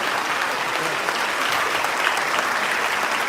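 Mourners at the funeral of Turkish artist Özkan Uğur give a standing ovation, with dense, continuous crowd applause filling the space at a steady loud level.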